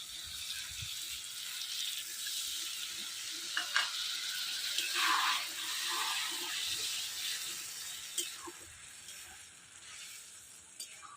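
Water from ground mustard and onion spice paste goes into a hot pan of ridge gourd posto, setting off a steady hiss and sizzle with a few faint clicks and bubbling surges.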